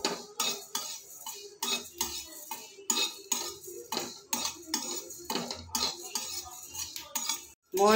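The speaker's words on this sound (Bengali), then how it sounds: "মৌরিটা আমি ভেজে গুঁড়ো করে নেব।" Fennel seeds are being dry-roasted in a pan, the metal utensil clinking and scraping against it in quick, irregular strokes, close and fairly loud, with short pauses between bursts.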